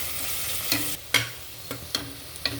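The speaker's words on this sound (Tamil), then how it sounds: "பொன்னிறமாக வர வரைக்கும் நல்லா வதக்கிக்கோங்க." Onions or aromatics sizzling in hot oil for chicken biryani, a steady frying hiss broken by several sharp scrapes and stirs of a spoon against the pan.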